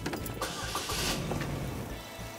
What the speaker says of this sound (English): you should be able to start the vehicle